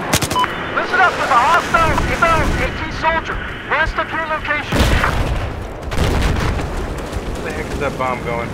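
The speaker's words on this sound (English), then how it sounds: "That bomb going." A bomb explodes in Battlefield 4 as a loud, broad boom, with more bursts of game combat around it. A player talks over the noise throughout.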